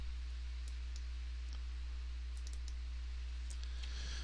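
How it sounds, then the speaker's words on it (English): Computer mouse clicking on a schematic part, a few faint sharp clicks in a pair and scattered singles over a quiet electrical hum, with no talking. "I'm going to double click my part here"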